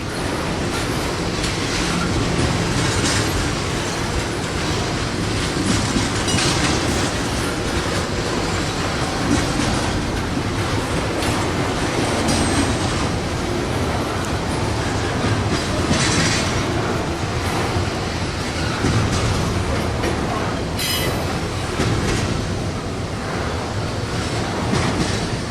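A freight train rolls past on the railroad, its wheels clattering in a steady, loud rumble that fills the whole stretch with no voices heard.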